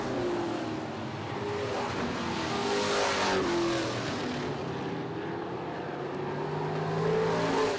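Limited late model stock cars racing on the Barrie Speedway oval, a loud continuous roar of several engines at full throttle with rising and falling pitch as the cars pass close by.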